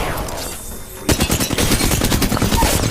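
Rapid hip-fire gunfire in a video game bursts loud and close after a brief lull, with dense repeated shots continuing to the end.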